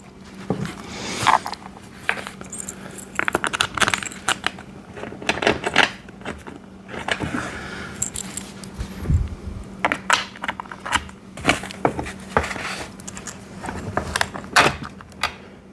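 Metal bolts clink and jangle as they are sorted and handled while a chair is assembled, producing irregular close clicks, taps and rattles over about sixteen seconds.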